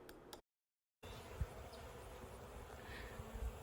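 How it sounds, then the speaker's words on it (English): Bees buzz around a beekeeper's winter feeding station, a soft, continuous insect drone heard at a distance. It starts with a short burst, cuts to silence for a moment, then resumes with occasional low thumps. "I tried to set up a feeding station for the bees"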